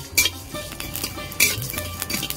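Salt, coriander, fennel and cumin seeds dry-roasting together in a pan, with a few sharp clinks and scrapes of a spoon stirring against the metal and a faint crackle between strokes.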